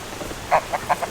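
Farm ducks give four quick, fairly faint quacks in an irregular pair-by-pair rhythm, heard at a short distance over quiet outdoor ambience.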